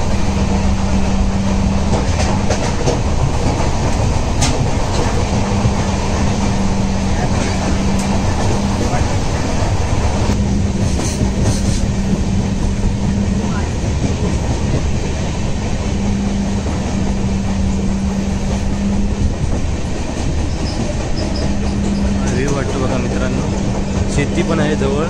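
Interior rumble of the Mandavi Express passenger train travelling from Kankavli to Dadar in the Konkan, a steady loud rolling drone with rhythmic clatter throughout, while people talk over it.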